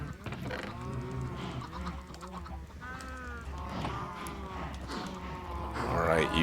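Cows moo in Minecraft, a hardcore vanilla game on version 1.17.1, with several long drawn-out lowing calls overlapping close by while someone talks over them.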